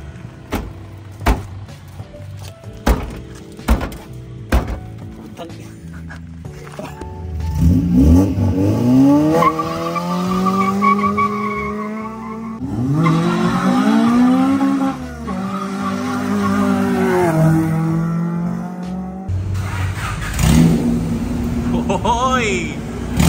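A 1999 Honda Civic SiR starts up and drives off, its engine revving loudly with rising and falling pitch through several acceleration sweeps, preceded by clicks and thumps, while people talk nearby.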